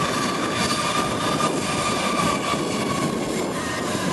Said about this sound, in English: We have an Airbus A340. Air France. Airbus A340.